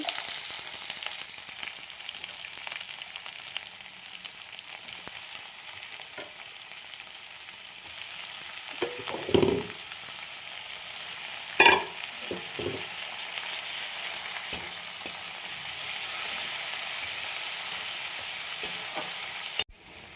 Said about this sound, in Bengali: আমি 4টে পেঁয়াজ কেটে নিয়েছি লম্বা লম্বা করে, পেঁয়াজগুলো ভেজে নেব।